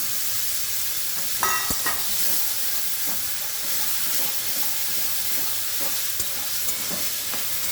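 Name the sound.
potatoes frying with tomato and spices in a pan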